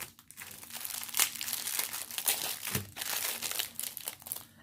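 A plastic-bagged kit holding a toolkit taped together is pulled open, giving close, loud, irregular crinkling and crumpling with a few sharper crackles.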